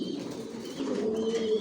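Racing pigeons in a breeder's loft coo in a soft, continuous low murmur, fairly close, with no talking.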